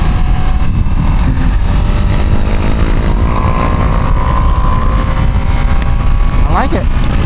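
A 2025 Ducati Panigale V2 rides along held in third gear, engine droning steadily under heavy wind rumble with a rising tone, while a rider talks over it.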